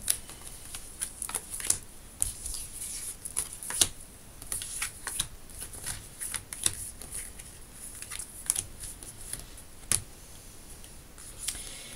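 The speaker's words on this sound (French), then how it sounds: "on va prendre cette carte également" Tarot cards handled and drawn at close range, soft shuffling, flicking and snapping card sounds in an irregular rhythm, quiet and alone.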